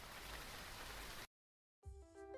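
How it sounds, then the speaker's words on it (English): Thick, steady hiss of heavy rain in a video game pours for a little over a second, cuts to silence, then returns more softly beneath faint tonal game music. "The rain thickens quickly"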